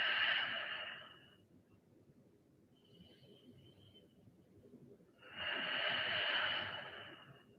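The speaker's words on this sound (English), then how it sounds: "Deep Ujjayi breath." Deep Ujjayi breathing during a power vinyasa yoga flow: two long, loud, hissing breaths, one at the start and one near the end, with a softer breath between them over a low background hum.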